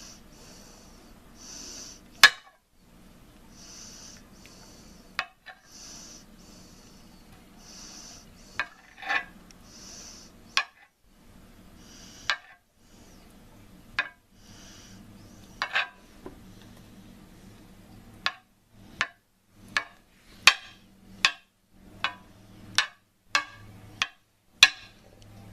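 A knife chops deshelled boiled eggs into small pieces on a cutting board, with sharp, quiet taps that start sparse and irregular and then come in a quicker run of clicks near the end, over faint background rustling.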